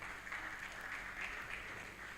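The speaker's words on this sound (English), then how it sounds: "Please clap well" Faint, distant applause fills a conference hall at an oil and gas workers' union zonal workshop, a steady wash of clapping from a seated crowd, heard quietly and without speech.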